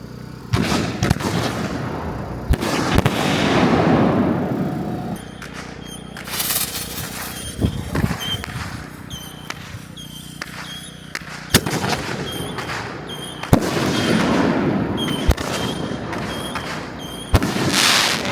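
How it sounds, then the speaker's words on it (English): Fireworks boom and crackle in a steady barrage, loud sharp bursts following each other with fizzing crackle between, heard from a moderate distance. "Guys, we got fireworks."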